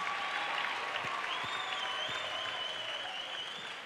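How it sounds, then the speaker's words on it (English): Crowd applauding both fighters after a combat sports bout, a sustained wash of clapping that tapers slightly toward the end, heard alone without talk. "big round of applause for both fighters for a fantastic contest"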